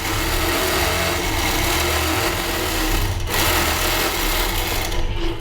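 Sewing machine stitching through the layers of a double-sided T-shirt quilt, a steady continuous whir running loud and close for the whole stretch with only a brief dip near the end.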